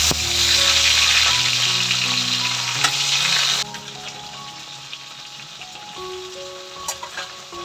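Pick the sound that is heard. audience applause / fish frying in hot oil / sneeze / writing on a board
fish frying in hot oil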